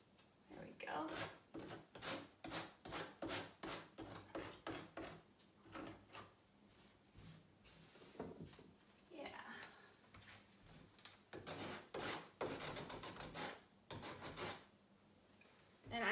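A wooden corner cabinet is distressed by hand with a series of brisk, rhythmic rasping rubs, close up, in bursts with short pauses, while someone talks quietly between strokes.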